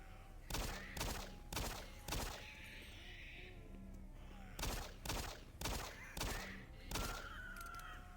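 A shotgun blasting in the video game Doom 3, fired in a quick series of sharp booming shots with short pauses, amid in-game creature noises and effects.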